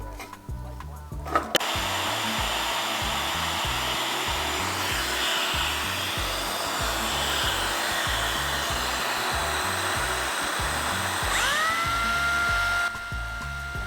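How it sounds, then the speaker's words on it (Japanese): A biscuit joiner cuts grooves in wood for a giant wooden Gundam build, giving a steady, high-pitched motor whine that holds for about ten seconds before spinning down near the end. "ジョイントカッターと呼ばれる機械です。"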